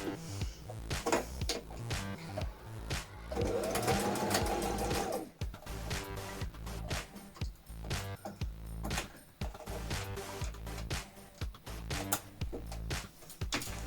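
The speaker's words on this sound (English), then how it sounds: "We're going to sew about 1/2 centimetre away from the edge this time." A sewing machine stitching the waistband edges of a circle skirt runs close and steady, a fast continuous needle clatter with brief slowdowns throughout.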